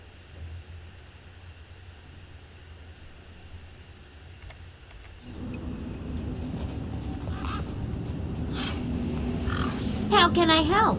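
Birds honking in the video game Beyond a Steel Sky: a low ambient hum, then a rise of busy noise with scattered cries, ending in a burst of loud, wavering honks near the end.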